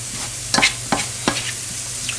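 Pumpkin and shrimp cooking in a pan over a low steady sizzle, with a few sharp scraping stirs of a utensil against the pan at irregular moments.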